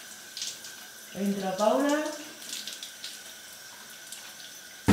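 Water rushes briefly from a shower tap with a rising, whistling pipe tone, then settles into a low steady flow under a voice speaking Spanish, ending in a sharp knock.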